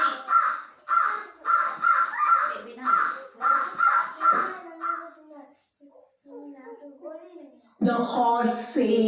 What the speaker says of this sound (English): The crow says.